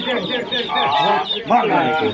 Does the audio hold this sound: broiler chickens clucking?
yes